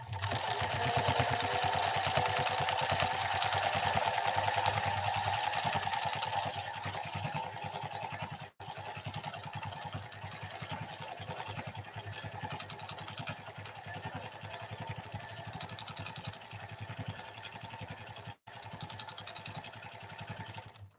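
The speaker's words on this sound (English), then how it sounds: "I can finish sewing this one and show it to you." A Pfaff 332 sewing machine stitching leather on a twin needle setting, a continuous mechanical whir with fast rhythmic needle chatter that is louder at first, then slightly quieter, briefly pausing twice before running on.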